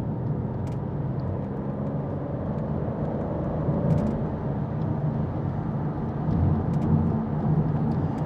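A car fitted with carbon ceramic brakes drives at speed, giving a steady, moderate road and engine rumble with no talking.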